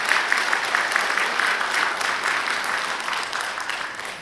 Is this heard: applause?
yes